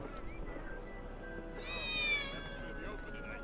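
A cat meows in the Final Fantasy 7 Remake video game, one drawn-out, wavering meow rising out of a steady in-game ambience and fading after about a second.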